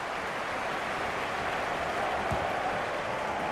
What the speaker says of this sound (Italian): possiamo ascoltare gli applausi dei tifosi